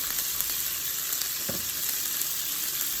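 Food sautés in garlic butter with Cajun seasoning, garlic salt with parsley and black pepper, giving a constant close crackling sizzle with one brief stir or clink midway and no talking.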